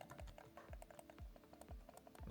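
Quiet clicks from a Redbean A39R silent Bluetooth mouse pressed up close, a steady series of soft, muffled taps repeating about every half second, with no speech.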